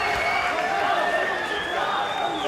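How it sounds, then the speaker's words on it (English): A crowd at an MMA fight between Kwon and Guangyu roars and cheers in a steady, loud wash of voices through the closing minute and a half, with no break in the noise. "The crowd really revving him up for the last minute and a half of this fight."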